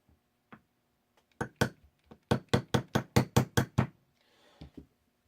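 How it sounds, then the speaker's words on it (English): A hammer tapping a pin into place against an extractor during gun reassembly, a run of about a dozen sharp, close metallic knocks in a quick, fairly even rhythm, with a few isolated taps before and after. "You're going to apply pressure onto that extractor and tap the pin."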